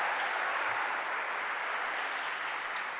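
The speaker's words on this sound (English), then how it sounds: "Why don't we give him a big round of applause" Audience applause at the Moynihan Center inauguration, a steady, even wash of clapping from a large crowd heard at a distance, sustained throughout without voices over it.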